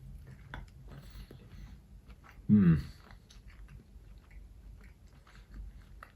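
Frozen roast potatoes are bitten and chewed close to the microphone, with one louder crunchy bite partway through among faint soft mouth sounds.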